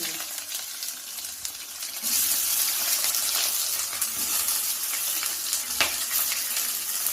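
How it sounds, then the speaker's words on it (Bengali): Chopped onions frying in mustard oil in a wok, a dense, close hiss of sizzling that swells louder partway through and carries on steadily with light crackles. "এবার আমরা কড়াইয়ের মধ্যে একটু তেল নিয়ে নিচ্ছি সর্ষের তেল তার মধ্যে আমরা প্রথমে পেঁয়াজ কুচিগুলো দিয়ে"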